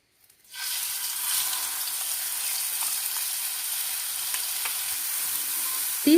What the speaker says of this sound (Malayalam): ഈ കടല ഇട്ട് കൊടുക്കാം.